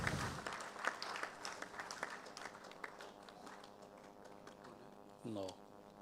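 Applause from a crowd at the Golden Jubilee inaugural ceremony of a national conference, greeting a national secretary. The clapping is scattered, moderately distant and fairly faint, lasts several seconds amid room murmur, and a brief voice comes near the end.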